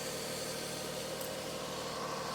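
A 2006 Lexus engine with a failing alternator idles in a low, steady hum with faint vibration, quiet and unchanging and heard alone.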